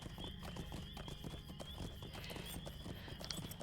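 Horse hooves clip-clopping in the Lord of the Rings Online video game, a steady, quick rhythm of hoofbeats over a constant background hum, with no talk.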